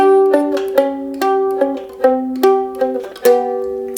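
Mandolin picks out a blues turnaround, with a short sequence of bright plucked notes and double-stops ringing one after another, played alone and close.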